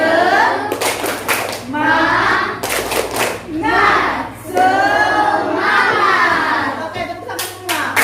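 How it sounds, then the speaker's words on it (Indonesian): A class of children in a classroom doing a rhythmic spirit clap together, bursts of patterned clapping mixed with loud chanting and shouting voices, close and energetic, with short pauses between clap sequences. "Kita tepuk semangat dulu sama-sama. Ayo, tepuk semangat."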